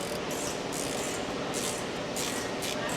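Transmission fluid pouring out of a car's drain plug opening, a steady broad hiss and splatter that keeps on without a break for the whole stretch, close and fairly loud.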